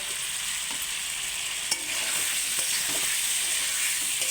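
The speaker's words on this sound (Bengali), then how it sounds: "এবার আমি পটল আর আলুটা দিয়ে দেব, দিয়ে আবার একটু ভালো করে কষে নেব।" Pointed gourd and potato fry and get stirred in hot spiced oil, a steady loud sizzle filling the whole clip with occasional faint scrapes and no talking.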